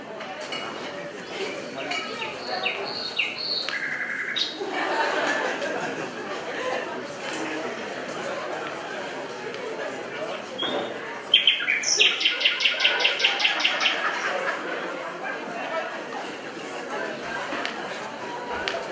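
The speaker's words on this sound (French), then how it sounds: "Ah mais François, ça c'est oiseau qui chante." Birds chirp and trill intermittently in an outdoor setting, with a brief burst of rapid repeated tweets midway, alongside soft background murmur.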